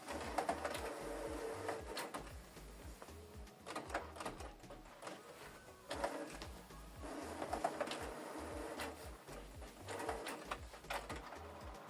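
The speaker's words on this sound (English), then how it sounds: "Switch the printer on and off from this button." A Canon Pixma TS5350i printer switches on and whirs through its startup, with repeated mechanical pulses, clicks and motor chatter in a steady rhythm, fairly faint and close.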